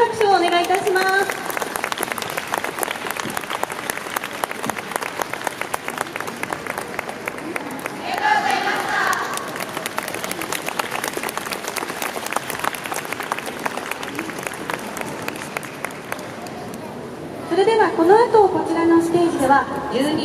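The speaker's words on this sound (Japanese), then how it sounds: "皆さん改めて拍手をお願いいたします。" Applause from a festival audience after a junior and senior high school dance club's stage performance, dense sustained clapping with crowd noise, swelling louder near the end, with an announcer's voice over it.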